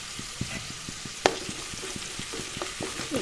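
Onions with salt and turmeric frying in oil for a fish and cauliflower curry sizzle under rhythmic spoon strokes against the pan, with one sharp clank near the start. No one speaks.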